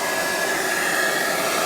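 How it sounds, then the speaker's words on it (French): A hair dryer runs steadily off a Fossibot F3600 portable power station, giving a loud, constant airy whoosh with a thin motor whine throughout, with no voices. "Je mets en route le sèche-cheveux."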